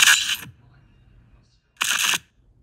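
Two quick transition whooshes from a Cinepunch sound effect pack, each a short bright bright burst about half a second long, separated by a second of near silence.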